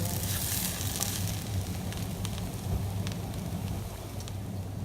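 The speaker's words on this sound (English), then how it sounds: "We are continuing our stir fry." Cauliflower rice stir-frying in a pan, giving a steady, close hiss and crackle of sizzling that runs evenly throughout with scattered sharper pops, no talk.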